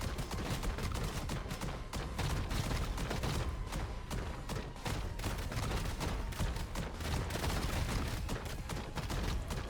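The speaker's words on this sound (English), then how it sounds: "we're just going to start shooting" Gunfire in the video game Kiborg: continuous rapid shooting, a dense stream of sharp, loud shots packed close together that carries on without pause for the whole stretch.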